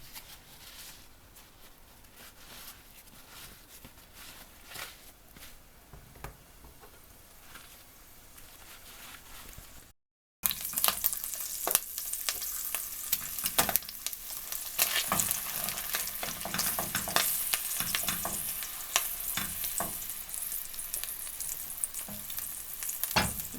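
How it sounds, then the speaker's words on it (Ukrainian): Zucchini sizzles and crackles in a hot pan: quiet at first, then a sudden, much louder burst of steady frying that continues to the end. "з обох боків до рум'яності прожаримо"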